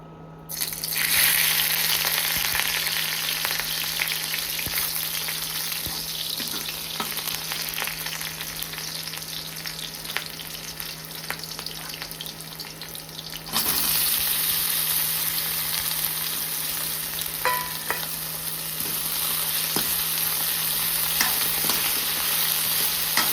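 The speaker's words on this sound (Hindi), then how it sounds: "चलिए अभी इसका तड़का मारेंगे, सिंपल तड़का" Spices crackle and sizzle in hot oil as a simple tadka is tempered, a dense continuous hiss that grows louder partway through, with faint clinks and no voices.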